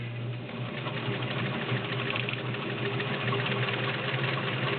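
Vintage Dressmaker S-2400 sewing machine stitching full-width zigzag, a fast, even mechanical whirring hum with rapid needle clatter, close and steady throughout with no talking.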